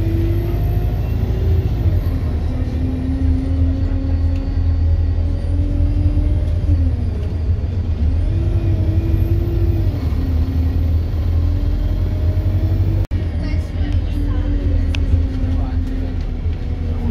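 Transport for Cornwall 515 bus rolling toward Penzance, heard from inside as a steady loud engine rumble with rising and falling gear whine and a brief clunk late on.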